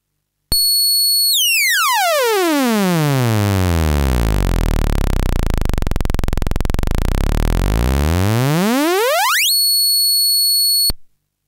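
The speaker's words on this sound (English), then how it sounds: "So let's go to the sawtooth." An AE Modular 2OSC synth oscillator puts out a loud sawtooth wave that sweeps from a high pitch down to a deep low buzz, then rises back up to high before cutting off abruptly.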